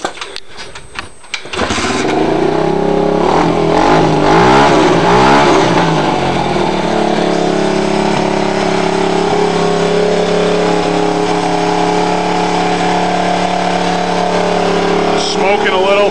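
A small Pep Boys dirt bike, running on the wrong 4-stroke fuel and smoking a little, starts after a short rattle and then idles with a loud, steady buzzing drone close by, while a person talks over it.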